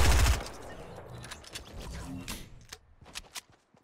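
Video game gunfire: a loud close shot opens, then a scatter of lighter, spaced shots and mechanical clicks fading toward silence.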